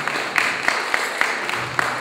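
Wedding guests at a Silesian reception in Bytom applaud after the first toast: a steady wash of crowd clapping with sharper, louder claps standing out roughly every half second.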